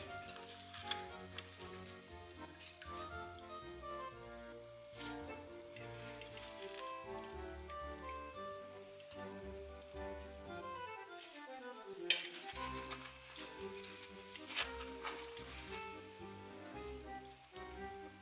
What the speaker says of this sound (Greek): περιμένουμε να τηγανιστούν και από την άλλη μεριά